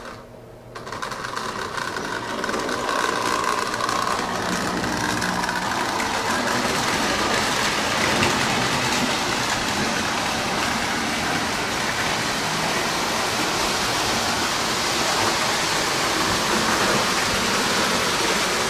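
A heavy model train locomotive running on track, a continuous loud whirring and rattling roar that starts abruptly and holds steady for the whole stretch, close to the listener with no talking.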